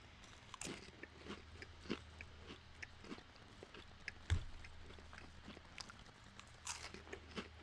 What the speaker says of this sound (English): Eating crackers again, guys.